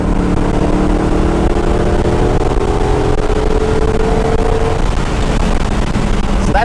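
A car accelerating in third gear along a long straight on a winding road, its engine note rising steadily and loud up close over constant road and wind roar, then easing off.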